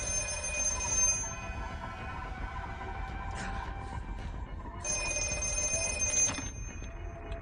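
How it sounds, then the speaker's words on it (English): Telephone in a movie scene ringing with two long trilling bell bursts separated by a pause, over a quiet, tense background with no talking. "He could see up the stairs, and the phone rings."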